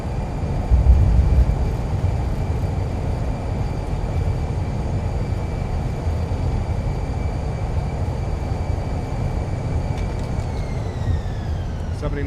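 Airbus A320 thrust reversers roar on landing rollout in Microsoft Flight Simulator, a steady loud engine rumble with a high whine that falls toward the end as the reversers spool down.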